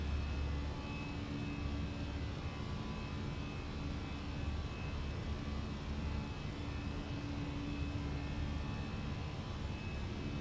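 A320 jet engines at climb power in a flight simulator, a steady, moderate cockpit drone with faint tonal hums, continuous and unbroken throughout.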